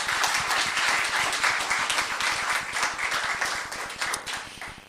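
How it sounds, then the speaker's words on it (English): Audience applause at a town council meeting in Los Gatos, California, honoring a small dry-cleaning business: steady, dense clapping from a room full of people, sustained for several seconds and fading slightly toward the end. "Let's give them a round of applause."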